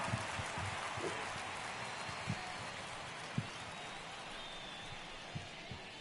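Rain falling during an Astros vs Red Sox baseball game in MLB The Show 22, a steady soft hiss of rainfall with a few faint thumps scattered through it, no talk.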